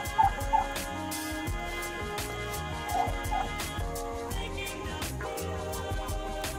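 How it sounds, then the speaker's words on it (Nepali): Turkeys, one male and two hens, gobble in a rooftop pen beside chicken and quail coops, short throaty bursts rising over a steady background hum, fairly close, with no talking. "खोरको भागमा टर्की पनि राख्नु भएको छ एउटा भाले र दुईवटा पोथी छ।"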